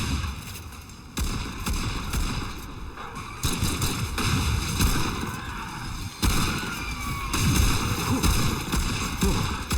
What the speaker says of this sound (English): Y'all motherfuckers just started shooting.